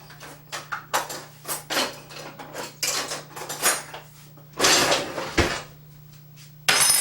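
Utensils clatter against a dish while shredded sharp cheddar is stirred in, a series of irregular scraping clinks and knocks, close and clear with no talking.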